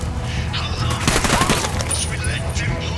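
Sniper fire in Ghost Recon Wildlands, with sharp gunshot cracks and a brief loud volley mid-clip over steady game ambience, alongside some talk.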